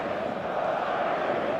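Stadium crowd in the football video game eFootball 2025, a dense steady roar of cheering fans filling the whole moment without clear breaks.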